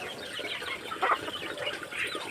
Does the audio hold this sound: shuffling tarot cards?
no